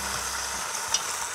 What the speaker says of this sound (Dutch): Onze haas ligt met sowieso één vleeszijde in de boter te bruinen.